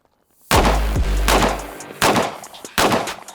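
Three sharp gunshots crack out at targets at an outdoor range, the first with a long booming decay, the others spaced about a second apart.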